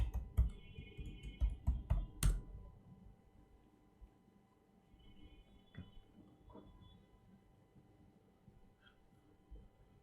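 A Linux password being typed on a computer keyboard, a quick burst of close key clicks over the first couple of seconds, then quiet room hum with a few faint stray taps.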